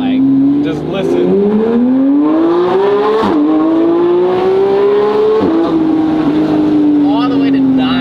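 A Lamborghini Huracan with a twin-turbo setup, around 475 to 500 horsepower, revs loudly and continuously, its engine note climbing toward 9,000 rpm with brief dips between pulls and rising again. Voices talk over the engine.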